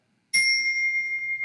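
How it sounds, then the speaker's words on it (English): A single bright chime bell is struck once to mark the end of a poem, ringing with a clear sustained tone that decays slowly over about a second. "That's the Silentium chime. We sound it to let our listeners know that the poem is finished"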